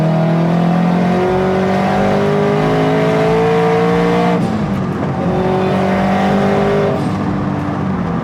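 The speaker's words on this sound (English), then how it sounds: "We all like the fun turbo noises." A turbocharged Subaru BRZ of about 300 wheel horsepower pulls hard at full throttle, the engine note rising steadily through one gear, dropping briefly at a shift, then climbing again, loud and continuous from inside the car.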